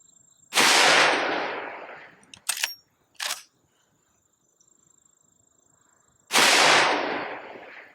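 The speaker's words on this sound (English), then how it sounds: "we'll put a couple rounds through and see what it does on the chronograph" Two loud, sharp shots from a Henry Big Boy .44 Magnum lever action carbine, each with a decaying outdoor echo, separated by a few quick clicks and clacks of the lever being worked.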